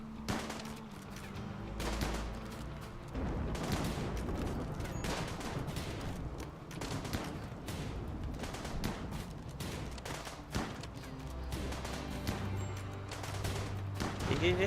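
Gunfire in the video game RimWorld, during a Naked Brutality run: repeated bursts of rapid shots crackling through the whole stretch, fairly quiet overall, with a voice speaking briefly near the end.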